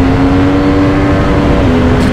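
A Yamaha MT-10 motorcycle engine revs hard in first gear, a loud, close, steady throbbing drone that holds a high pitch throughout with no talk.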